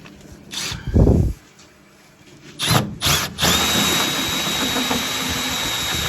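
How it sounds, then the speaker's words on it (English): A power drill cutting through the wall of a foam-insulated tank on a plumbing job, with a short burst, a pause, then a steady close whine that keeps running to the end. "So it's an insulated tank, so that's what I've just drilled out."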